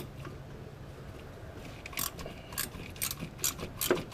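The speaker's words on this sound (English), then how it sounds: "It really helps to have a gear wrench screw tip in there." A gear wrench ratchets on a power steering pump bolt on a Jeep Cherokee, giving faint, close clicking in short irregular bursts.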